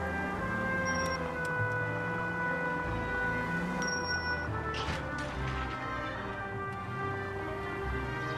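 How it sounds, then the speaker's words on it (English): A police car siren in the video game L.A. Noire sounds as a steady, alarm-like electronic wail that holds a fixed pitch, continuous and fairly loud for the whole stretch, with no talking. "the siren does really sound like an alarm"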